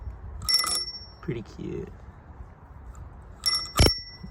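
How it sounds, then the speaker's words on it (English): A bell on a Panasonic bicycle rings twice, short bright dings near the start and end, close and clear, with a person speaking briefly in between. "Oh, I forgot the bell."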